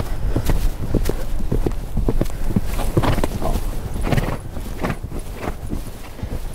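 Hooves of a show-jumping horse thud and clop rhythmically on the footing of an indoor riding arena, a close, loud, steady gait of repeated strikes continuing throughout without speech.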